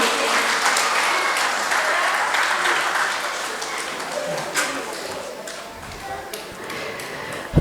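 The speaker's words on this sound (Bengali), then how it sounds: "সকলে একটু জোরে করতালি দেবেন।" An audience at a yoga festival inauguration claps loudly in a sustained burst that gradually thins and fades, close and dense, with voices faintly audible beneath it.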